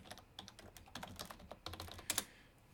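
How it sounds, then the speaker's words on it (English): A password typed on a computer keyboard: a quick, irregular run of faint close-up key clicks, ending in a couple of firmer strikes, with no voices. "I typed my password incorrectly."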